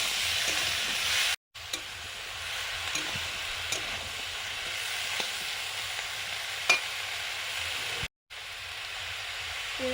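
Onion greens fry with potatoes in a pan, giving a steady close sizzle broken by light stirring scrapes and two short dropouts.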